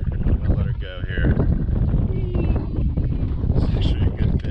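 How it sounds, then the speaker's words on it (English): Wind buffets the microphone in a continuous rumbling roar aboard a fishing boat on the water, with a voice speaking intermittently under the gusts. "It's windy."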